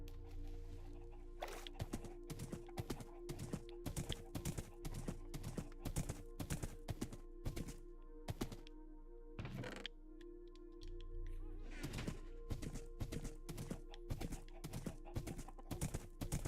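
Horse hooves clip-clop in the video game Minecraft, a brisk regular series of sharp hoof steps with a brief lull midway, with faint background game sounds and no talk.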